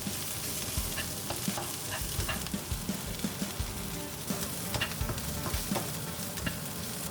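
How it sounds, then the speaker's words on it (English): Onion browning in a frying pan with a pinch of salt, a dense, steady sizzle and crackle with soft intermittent stirring taps throughout. "we're going to brown our onion in a frying pan"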